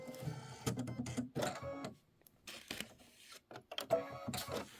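An embroidery machine stitches dark lower leaves on a holiday tote in quiet, rapid mechanical bursts, with short pauses between runs.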